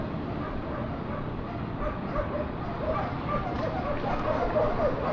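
Several dogs bark and yip at a distance along an early-morning street during an e-bike commute, their calls scattered over steady wind and road noise, with a voice speaking briefly.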